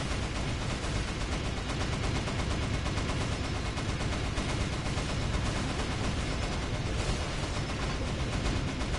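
Dense, unbroken gunfire from a shooter game, EDF: Iron Rain, rapid automatic bursts layered with heavy booms, loud and continuous throughout with no pauses.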